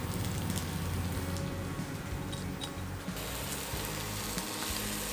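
Tofu with seasoning and salt fries in a pan, giving a loud, dense, unbroken sizzle and crackle close by, with no voices.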